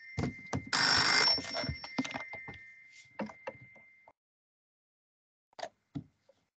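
A telephone rings with a sustained electronic trill, then clatters and thumps follow as it is handled, ending in a few faint knocks after a pause.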